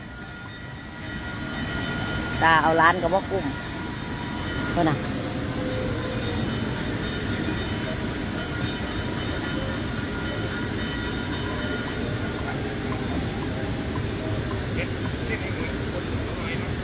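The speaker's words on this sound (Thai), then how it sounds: "ดูรถไฟ" A train passing close by, a rumbling, rattling rush of wheels on rails that stays steady, with children and adults talking over it.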